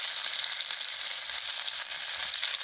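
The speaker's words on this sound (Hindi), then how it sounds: "अब एक पैन लिया, उसमें मैंने कुकिंग ऑयल थोड़ा सा ऐड किया है, तो इसके अंदर मच्छी ऐड कर देंगे फ्राई करने के लिए।" Fish frying in a little cooking oil in a pan makes a steady, close, bright sizzle throughout with no talk.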